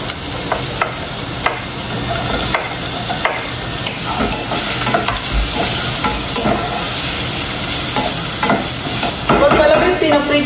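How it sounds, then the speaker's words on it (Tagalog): Squid adobo frying hard in a pan, a loud, continuous close sizzle with crackling splatters and occasional stirring scrapes throughout. "Ang ating adobong pusit. Nagtatalsikan siya ng sobra."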